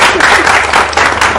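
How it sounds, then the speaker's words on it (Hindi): A studio audience at a televised finance discussion breaks into loud, close applause, with a dense, continuous clatter of many hands and faint crowd murmur underneath. "तो इतनी बढ़िया टिप्पणी के लिए ताली बजनी चाहिए सुनील जी।"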